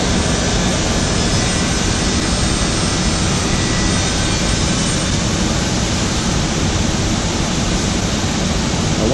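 HOMAG QA 65 glue application unit for edge banding with its roller running, a loud, continuous, even roaring hiss of machinery that stays steady without change, no speech.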